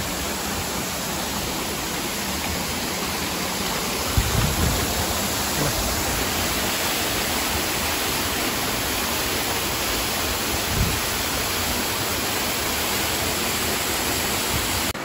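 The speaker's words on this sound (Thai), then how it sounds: "น้ำตก" A forest waterfall roars steadily and loudly throughout, a dense continuous rush of falling water with no pauses and no voices.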